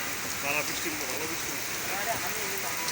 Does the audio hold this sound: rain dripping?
yes